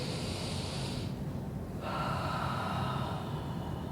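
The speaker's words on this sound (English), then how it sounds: "Just breathe." Deep breathing, a slow, close inhale drawing into a long, airy exhale, soft and steady, with no talking.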